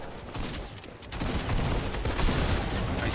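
Gunfire in the Fortnite video game, a dense, continuous volley of rapid shots that grows louder and busier after the first second and keeps rattling without a break.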